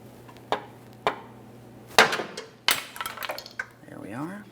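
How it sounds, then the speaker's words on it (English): Sharp metallic taps on the end of a long pry bar used to break a steering rack bellows clamp loose on a 2015-2019 Subaru Outback, a few spaced knocks with rattly bursts, close, over a low steady hum. "I'm using a long pry bar and I'm going to tap on the very end of this."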